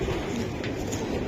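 Racing pigeons in a loft give soft, steady cooing throughout, close and continuous over low background murmur, with no speech.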